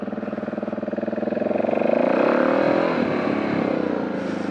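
A motorcycle engine, a touring bike just collected back from freight, runs close by in cold weather, its throaty note rising as it revs up and then easing back down, with no talking.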